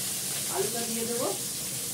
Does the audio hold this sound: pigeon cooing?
no